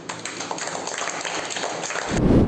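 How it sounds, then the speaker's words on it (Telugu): Crowd applause after a new-moon meditation session at the Anjaneya Swamy temple in Bheemineni Varapalem, Guntur district: a steady rush of many hands clapping together, swelling louder near the end. "ఈ చక్కని ఈ ధ్యానానికి ఒకసారి చేతులు పైకెత్తి చప్పట్లు కొడదాం"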